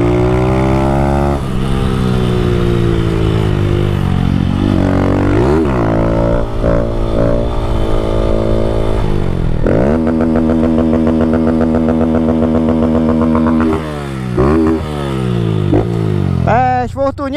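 A Honda Fan 160 motorcycle fitted with a Fortuna aftermarket exhaust idles and revs loudly up close, with its deep, throaty note rising and falling through several blips of the throttle.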